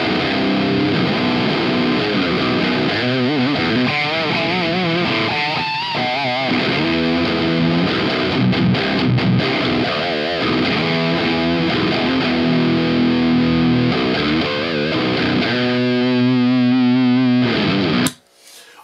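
A heavily distorted electric guitar through a Two Notes Torpedo C.A.B. M 6L6 amp simulation plays loud, sustained riffs and chords nonstop, ending with an abrupt cutoff.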